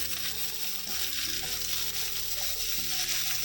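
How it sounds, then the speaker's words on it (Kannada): Chillies, onion and garlic frying in a pan for a mushroom and sprouts curry, giving a steady, close sizzle with faint stirring scrapes throughout and no talking. "ಹಾಗಾಗಿ ಸ್ವಲ್ಪ ಫ್ರೈ ಮಾಡ್ಕೊತೀನಿ ಇದರಲ್ಲಿ"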